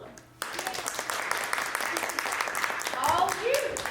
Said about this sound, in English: So I'd like for us to give a round of applause to Allison Kondler.